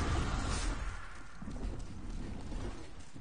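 Horse hooves clip-clop in the Demon's Souls video game, a dull rhythmic thudding under a broad rumbling game background, moderately loud with no speech.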